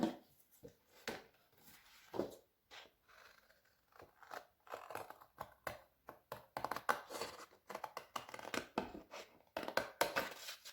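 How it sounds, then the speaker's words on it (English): Scissors snip through a painted paper heart for a rainbow heart craft, a close series of short crisp cuts and rustles that grow busier and denser toward the end, with no talking. "So I'm now going to cut it out"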